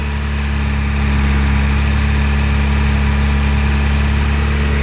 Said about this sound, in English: Turn the idle back down again.